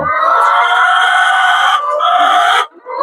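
A rooster crows loudly and close by, one long strained call held for over two seconds before breaking off.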